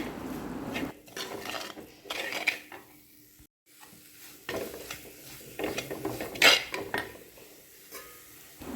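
A crab roast masala being stirred in a pan, with a spoon or spatula scraping and clinking against the metal in irregular bursts, close and moderately loud, with brief pauses between strokes.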